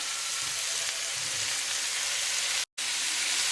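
Chopped carrots and spices cook together in a soup pot over medium heat, giving a steady broadband sizzle and hiss that continues evenly, broken by one brief dropout near the end.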